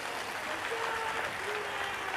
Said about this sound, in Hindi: एक बार जोरदार ताली बजाओ इन सनातन अवलंबियों को।